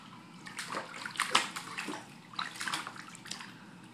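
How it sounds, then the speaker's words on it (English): A baby pats and splashes water in a bathtub, with irregular close sloshes in small bursts and lighter trickling between them. "started slowly patting the water. Now he's having a good time with it."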